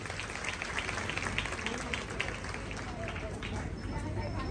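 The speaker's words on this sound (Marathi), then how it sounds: "एकदा या सगळ्या महिलांसाठी जोरदार टाळ्या झाल्या पाहिजेत." Audience in a hall applauding women of a family at a game-show event, a dense steady wash of clapping lasting a few seconds, mixed with crowd noise.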